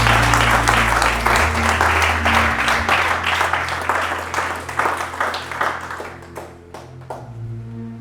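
A church congregation applauds in loud, sustained clapping over low held keyboard tones, thinning toward the end into scattered individual claps.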